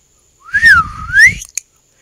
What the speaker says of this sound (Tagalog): Malakas na sumipol si siopaw